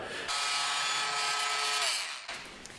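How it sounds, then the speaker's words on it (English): A Dremel rotary tool fitted with a wood cutting blade cuts a slot in a wooden board for a boat cutting board, giving a steady close high-pitched whine with a falling pitch for about two seconds before it cuts off. "just using a Dremel tool with a wood cutting blade on it. Just gonna cut a slot."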